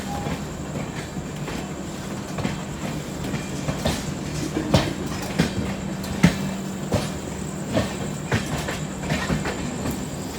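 The 12167 LTT Banaras Superfast Express rolls along just after departure, a steady low rumble with rhythmic clickety-clack of wheels over rail joints and occasional sharper clanks, running alongside another express.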